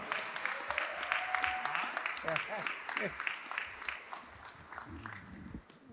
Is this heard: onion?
no